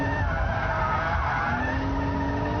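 A BMW Z3 M Roadster drifting through a corner under hard throttle, its tires squealing in a continuous loud skid over the steady roar of the engine.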